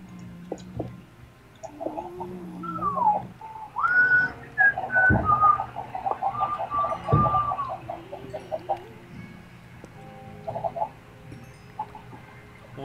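A person whistles along to clucking chickens in the Minecraft video game, with the whistled tones rising and falling over several seconds and game sounds and bird-like noises underneath.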